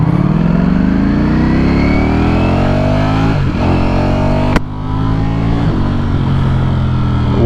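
A 2023 Ducati Streetfighter V4 motorcycle pulls hard under acceleration, its engine note rising loud and close, then dropping sharply at a quick-shifter gear change before climbing again.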